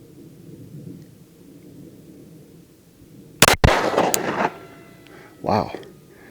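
A Glock Gen 6 pistol fires outdoors, giving a couple of sharp, loud, close reports midway through. Booming rumble and echo trail off afterward over a quiet background hum.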